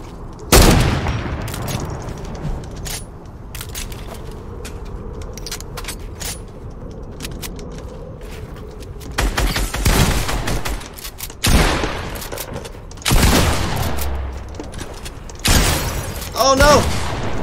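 Bursts of gunfire in Fortnite, several loud sharp volleys and rapid shot clusters scattered across the stretch, with someone talking excitedly between and over them.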